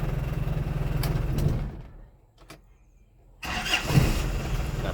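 A 1994 Isuzu TFR pickup runs at a rough idle, cuts out into near silence, then cranks and fires back up into a loud, close, steady engine rumble with no talk.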